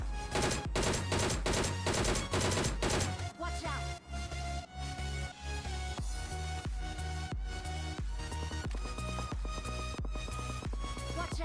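Gunfire erupts during a team fight in PUBG, with rapid automatic bursts of shots at the start followed by steady repeated rifle shots and impacts, loud and close throughout, with no talking.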